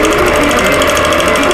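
A long-arm quilting machine stitching a Double Wedding Ring quilt with spaghetti thread, a steady, loud, buzzing mechanical hum with a fast even rhythm that runs continuously up close.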